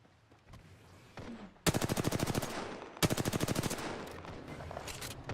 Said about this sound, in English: Enemy over there. Opening fire.